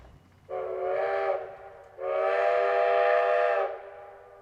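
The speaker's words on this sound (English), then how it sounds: "The locomotive is a good distance away from where the microphone is" Virginia & Truckee Railroad steam locomotive at Gold Hill sounding its whistle from a distance, two blasts: a short one followed by a longer, fuller chord-like blast, clear over quiet background.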